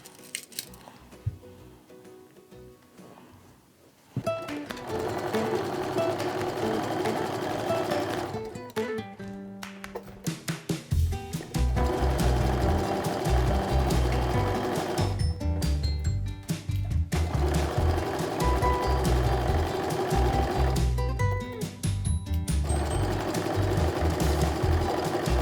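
A sewing machine joins quilt rows together in several loud, close bursts of rapid stitching, separated by short pauses. A quieter stretch comes at the start before the machine begins.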